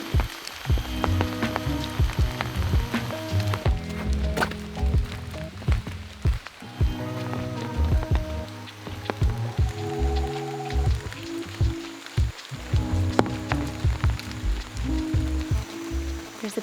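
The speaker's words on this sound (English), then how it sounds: "it's pretty rainy" Heavy rain pours onto the forest canopy and an umbrella in the Borneo rainforest, a dense, continuous patter with loud close drips and splashes and no talking.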